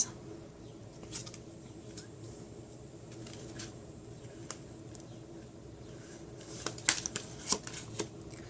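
Tarot cards being shuffled and dealt for a reading, close and fairly quiet, with soft rustling and papery slides that end in a few sharper flicks and snaps near the close.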